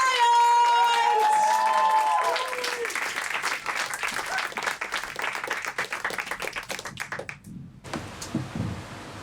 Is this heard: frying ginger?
no